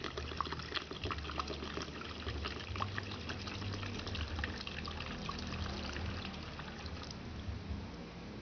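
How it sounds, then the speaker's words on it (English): Coconut juice is poured through a strainer into a container, a steady close trickling and splashing of liquid that runs for about eight seconds with no talk. "put your strainer, and then just pour the fantastic coconut juice"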